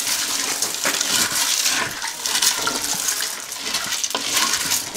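Farfalle pasta is stirred in a single pot with a spoon, giving repeated wet, sloshing scrapes in an uneven rhythm, close and fairly loud.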